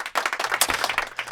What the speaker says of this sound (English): We always give our brookies the applause